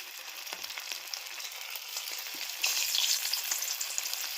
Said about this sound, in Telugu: ఇలా స్లోగా మంట మీద కాల్చుకోవాలి